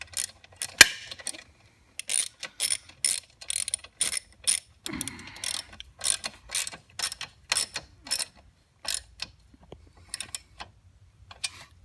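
Ratchet wrench tightening bolts while assembling a 48V 1300W electric ATV quad, rapid clicking strokes in short bursts, close and crisp, with brief pauses between them and no talking.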